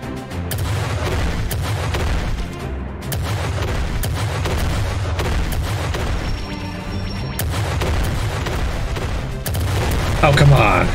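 Cannon barrage fire in the naval video game Uncharted Ocean, a dense, loud rolling of booms and crashes that continues without a break, with voices mixed into the din.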